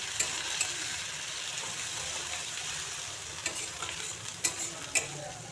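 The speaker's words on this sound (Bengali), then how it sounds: "একটু সময় কষিয়ে নিচ্ছি।" Spices with dry chilli powder and salt sauté in a pan for a prawn and radish curry, giving a steady close sizzle with a few sharper scrapes and taps from stirring near the end.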